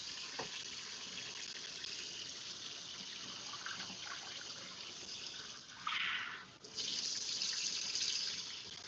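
A tap runs steadily as a wig's hair is rinsed under it, the stream holding a constant hiss with a brief splashing surge and dip near the end.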